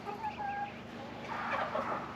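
Backyard homestead chickens cluck and a rooster sounds at moderate distance, soft tonal calls over a steady outdoor hum with no talking.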